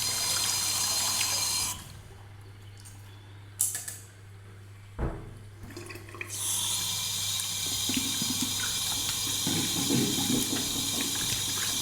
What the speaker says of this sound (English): Just give this razor a quick rinse.